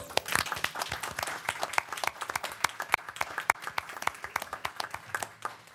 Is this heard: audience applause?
yes